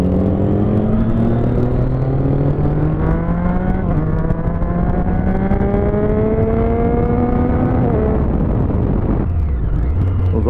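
A Honda Biz motorcycle riding through traffic, a loud close engine droning and rising steadily in pitch through the gears, then easing off near the end, with constant road and wind noise and no talk.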